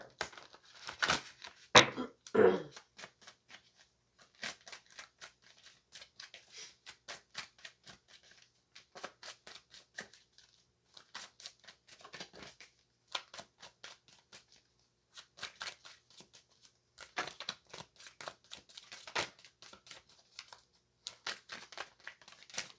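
Tarot cards shuffled and drawn during a reading, giving a steady run of soft, close-up flicking, riffling and slapping card sounds with brief pauses between bursts, with no talking.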